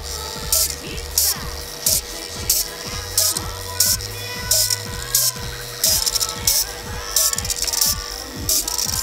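Two RC servos connected with a T cable and running in automatic mode whir back and forth in a steady rhythm, about one or two short motor sweeps per second, close and fairly loud with faint rattling.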